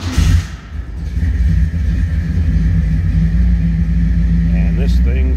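A 1959 Chevrolet Corvette's fuel-injected 396 stroker V8 cranks, fires and settles into a loud, deep, lumpy idle, close by and steady to the end.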